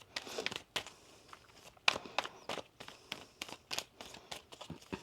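Tarot cards are shuffled close up in a series of quiet, irregular riffles and slaps, each burst brief and papery with short pauses between.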